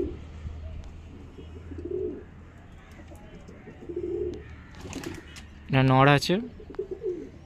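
Low, soft pigeon coos come in a few separate bursts, close by, with someone speaking between and over them.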